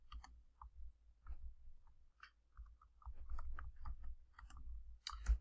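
Quiet, scattered keyboard clicks as a scale value is typed into a software properties window; short irregular taps come close together with pauses between, with no talking.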